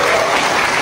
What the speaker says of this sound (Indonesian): Kalian jangan tepuk tangan seperti itu.